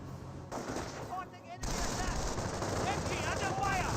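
Rapid bursts of MG42 machine-gun fire and other gunfire in the Company of Heroes World War II strategy game, loud and continuous for most of the stretch after a brief quieter lead-in, with faint talk mixed beneath.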